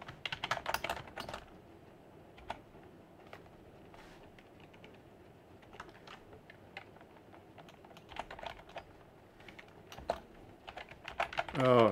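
Close, quiet clatter of typing on a computer keyboard, irregular bursts of key taps with short pauses between them, and faint voices talking in the background.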